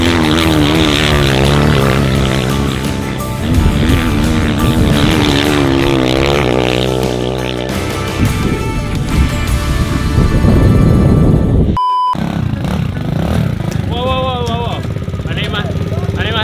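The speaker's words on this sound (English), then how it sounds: "So right now the bikes are going" Motorcycles ride past on an outback track, engines droning loud and close with shifting revs for most of the stretch, briefly cutting out before resuming more faintly, with people talking over them.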